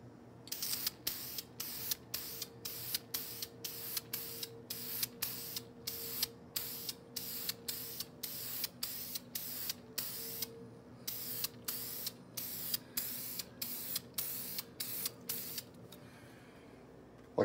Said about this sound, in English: Just get a bunch of light coats, or better than one thick coat.